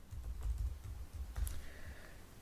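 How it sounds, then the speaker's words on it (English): A username and password typed on a computer keyboard: a quiet, steady run of soft key clicks with short pauses between them, heard alone with no talking. "So I'm going to type that in."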